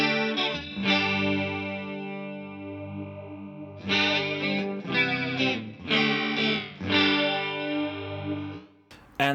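Electric guitar played through a TC Electronic TonePrint flanger with raised feedback, giving sustained chords a sweeping, metallic swirl; loud and close, several strummed phrases with brief gaps between them, no voices.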